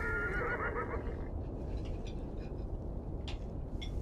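Horses neighing in the video game Beyond: Two Souls, set on a remote Navajo family ranch with mustangs; a whinny rings out at the start over a steady low rumble of ambient noise, with faint hoof sounds afterward.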